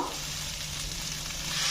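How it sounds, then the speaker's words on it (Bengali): Moringa drumsticks sizzle and fry steadily in a hot pan, a dense, even crackle that holds at a constant, fairly loud level with no one talking. "সজনের ডাটাটা আমার ভাজা ভাজা হয়ে গেছে"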